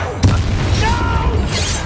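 A Descendo spell slamming an enemy to the ground in Hogwarts Legacy, a single heavy boom with a sharp impact near the start, followed by rumbling and brief voice-like sounds.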